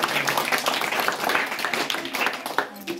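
Schoolchildren clap for a young boy performer who imitates animal and bird calls, a dense, lively patter of many hands that continues throughout and rises in brief surges, with some voices mixed in.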